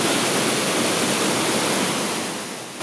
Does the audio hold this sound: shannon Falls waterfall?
yes